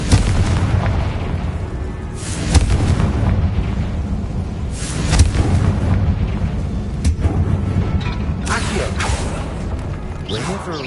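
The Confringo fire spell bursts in the Hogwarts Legacy video game, a dense rumbling blast with booming pops and crackles layered over continuous loud game audio.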